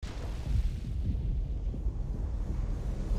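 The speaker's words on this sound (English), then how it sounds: "That's a lot of explosions." Deep, rumbling explosions in the video game Ixion, a continuous low booming roar without talk, moderately loud and sustained.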